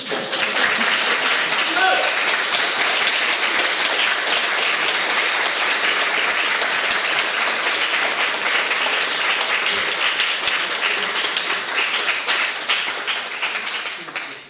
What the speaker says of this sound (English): you can show your appreciation for the candidates by your applause